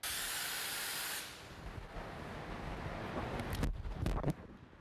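A loud, steady aerosol spray hisses for about a second onto a fiberglass car audio build, then stops, leaving faint rustling and a few brief knocks nearby.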